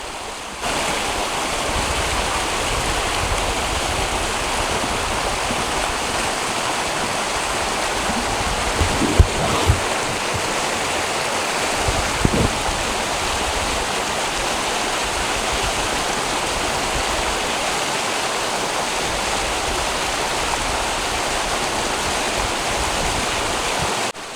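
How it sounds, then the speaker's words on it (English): Clear mountain water of the Mann River rushes over rocks in a continuous, full-bodied babble and hiss, steady and close for the whole stretch with no voices. "The Mann River has beautiful crystal clear water coming down from out of the mountains as it winds its way towards the coast."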